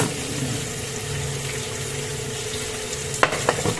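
Food frying in cooking oil in a home kitchen, a steady dense sizzle and crackle held close and even throughout, with a few sharper pops and clinks near the end.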